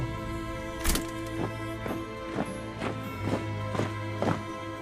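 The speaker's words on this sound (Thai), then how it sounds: "เสียงฝีเท้าดังไปมา" Footsteps pacing back and forth in the video game Limbus Company, a steady series of about eight heavy, evenly spaced thuds, close and distinct over a constant low hum.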